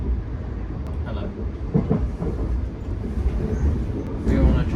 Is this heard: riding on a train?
yes